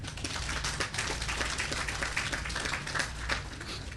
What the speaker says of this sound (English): I want you to applaud them